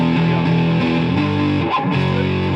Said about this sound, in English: a 20-year-old guitar and maxing distortion out on a random Marshall amp